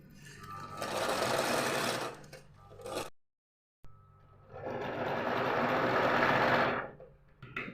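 Sewing machine stitching a folded cloth dress for a deity's garment, running in two sustained bursts of rapid mechanical whirring separated by a brief silent pause, close and fairly loud with no talk.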